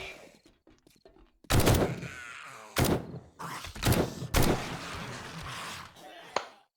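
Heavy gunfire in the 7 Days to Die video game: a handful of loud, sharp shots fired at irregular intervals, each with a short echoing tail, separated by quieter stretches of faint clatter.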